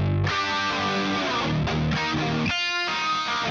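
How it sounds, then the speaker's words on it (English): A guitar drenched in heavy chorus from a Yamaha SPX90 Symphonic-style plugin, its notes shimmering and wavering in pitch, ringing out clearly with no voices. "I recognize that's a lot of chorus."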